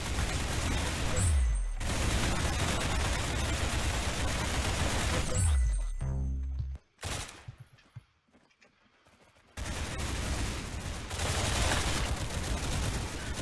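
Loud bursts of rapid AK-47 automatic gunfire in a game, sustained fusillades with a brief break and a near-silent gap before the shooting resumes, no talking.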